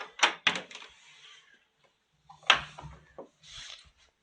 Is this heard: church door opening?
yes